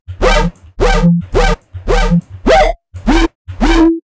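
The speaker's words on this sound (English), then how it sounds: "just like a little FM bass using two saw waves" A plucky filtered FM synth bass built from two saw waves plays seven short notes in an even rhythm, each with a bright attack that quickly mellows, loud and alone.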